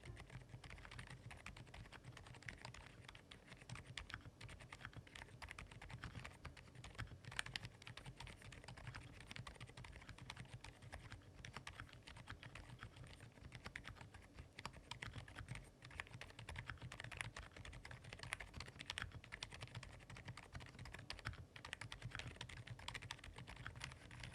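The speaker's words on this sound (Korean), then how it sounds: "이렇게 저소음 스위치인 피치 소다 스위치를 타건해봤습니다" Steady, muted keyboard typing on silent Peach Soda switches runs on for a long stretch, soft dampened keystrokes in a quick continuous rhythm with no talking.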